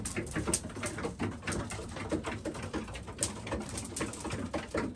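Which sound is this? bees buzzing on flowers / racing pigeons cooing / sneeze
racing pigeons cooing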